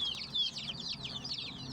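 Chickens recovering from a respiratory illness (ngorok) cluck and chirp in quick, overlapping high calls nearby, continuing over a low background rumble.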